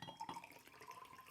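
Water trickles and splashes softly into a glass of raki, a faint continuous pour lasting the whole moment.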